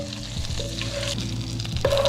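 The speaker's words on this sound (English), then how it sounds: "So now we want to go ahead and just add our butter, right? As soon as this melts, then we're gonna come with our onions." Butter melting in a hot pot for beef stew after minced garlic, giving a steady, close, fairly loud frying sizzle with a faint tonal hum underneath and a brief scrape near the end.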